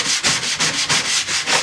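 A stiff scrub brush scrubs a gunky cutting mat in quick, rhythmic strokes, about six harsh rasping passes close up with brief pauses between, loud and with no talking.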